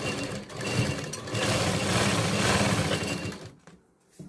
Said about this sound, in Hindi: सिलाई देने के लिए इसको जो टक्स है उसके ऊपर डबल सिलाई देनी है